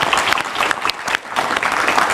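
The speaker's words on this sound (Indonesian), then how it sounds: "tepuk tangan dulu." Studio audience applause during an Indonesian political talk show, a dense steady clapping that fills the whole stretch with brief dips, close and fairly loud, with no speech over it.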